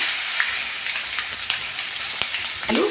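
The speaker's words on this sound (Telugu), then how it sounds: "అదే నూనెలో తాలింపులు వేసుకున్నామండి అవి కూడా ఎగినాయండి ఉల్లిపాయలు వేసేసుకుందాం" Sliced onions hit hot oil already holding tempering spices for a village-style dried fish and tomato curry, bursting into a loud, dense sizzle with sharp crackles and a brief stirring scrape near the end.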